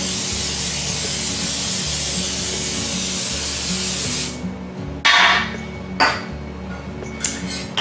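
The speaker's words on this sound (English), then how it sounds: "I'm going to spray it with cooking spray." A continuous hiss of aerosol cooking spray runs for about four seconds, then stops, followed by a few light clinks and rubbing sounds of a pan.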